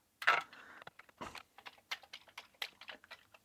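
Typing on a Commodore C64C keyboard, a quick run of close, crisp key presses in an irregular rhythm, each strike a distinct plastic clack, with no talking.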